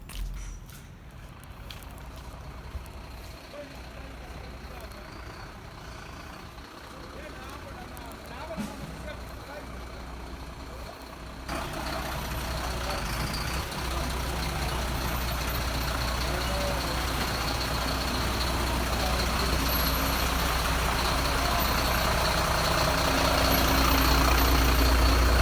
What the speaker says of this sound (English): The constant stream of Hamilton uncovered trucks with hazardous waste driving through Cape Town is absolutely disgraceful.